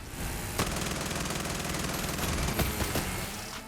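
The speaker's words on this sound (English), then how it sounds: "I mean, look at this minigun." Far Cry 6 minigun firing in a continuous rapid stream of shots, dense and sustained for several seconds with a few sharper bursts standing out, no voices.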